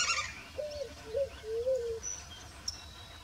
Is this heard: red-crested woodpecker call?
yes